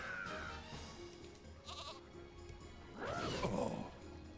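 Quavering sheep bleats sound over a busy background of game noise in the video game Dungeon Land, with a couple of louder bleats toward the end.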